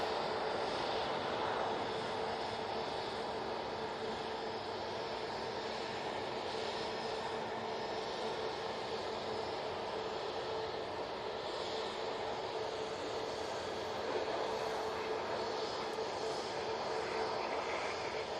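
An Emirates airliner taxiing at Manchester Airport gives off a steady, broad jet-engine roar that holds an even level throughout, with no talk over it.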